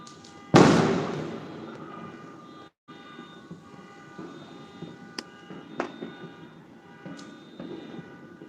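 A single sharp, loud blast rings out and decays into a rumbling background, followed by a few fainter pops and crackles scattered over the next several seconds.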